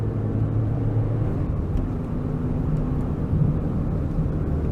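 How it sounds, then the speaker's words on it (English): A diesel Peugeot 205 pulls uphill at raised revs, a steady low engine drone with road rumble heard from inside the car, with no talking. "I have to use a few more revs because we're going uphill now."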